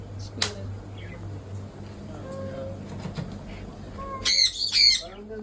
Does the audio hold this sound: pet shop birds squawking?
yes